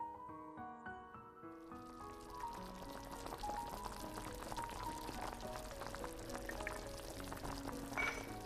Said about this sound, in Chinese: 再把汤倒到砂锅里面